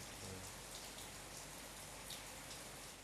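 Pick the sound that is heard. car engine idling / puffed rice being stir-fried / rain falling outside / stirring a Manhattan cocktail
rain falling outside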